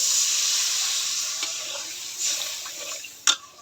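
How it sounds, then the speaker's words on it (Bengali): Water is poured onto fried spice masala in a pan for a fish curry. A loud hissing sizzle fades gradually, ending with a short knock. "এবার জল দিয়ে দিলাম"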